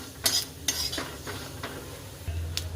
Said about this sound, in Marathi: नुसतं जिरं टाकलं की हे तीळ टाकलं की खूप सारं उडतं, म्हणून जिऱ्यासोबत टाकलेलं आहे